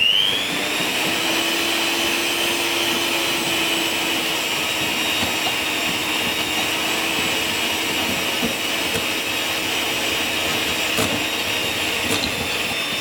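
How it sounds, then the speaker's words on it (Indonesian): An electric mixer runs continuously with a steady high whine and motor drone while kneading dough as water is added, loud and close, with occasional faint clicks and no talking. "Ini kita mixer langsung sob"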